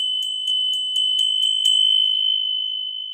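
A small ritual bell in a tarot reading is struck about eight times in a quick, steady rhythm, each clear, bright ring overlapping the last, then left to ring out alone with a long, fading shimmer.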